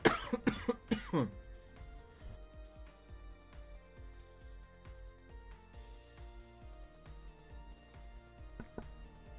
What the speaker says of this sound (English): A bit of cough there.